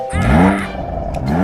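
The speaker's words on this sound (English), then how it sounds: "Sounds like my car." Car engine revving in a short, loud rising whine that then settles into a steady mid-pitched hum.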